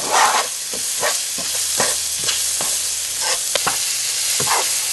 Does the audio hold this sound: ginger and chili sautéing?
yes